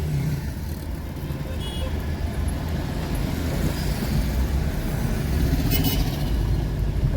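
On a highway toward Chamarajanagar, Coimbatore and Ooty, motorcycles speed past amid a continuous road roar. Low engine rumble and tyre noise hold steady and swell slightly toward the end.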